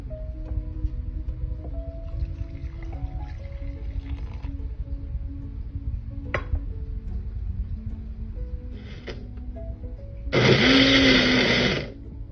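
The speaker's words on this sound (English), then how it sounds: "Blend onion, ginger, and garlic into fine paste." An electric blender grinds onion, ginger and garlic into a fine paste in a kitchen: a loud, steady whirring burst of about a second and a half that follows quieter background hum.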